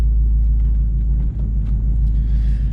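A Trans Am pulling away after its line-lock brake releases: a loud, steady low engine rumble dominates throughout, close and continuous, with no voices.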